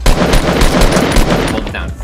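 Rapid gunfire in the video game Fortnite, a loud dense burst of shots running almost the full length, close and harsh.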